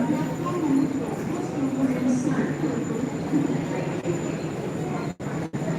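A Borivali AC local train in Mumbai gives off a steady rumbling hum while people talk nearby, and a couple of brief dropouts come near the end.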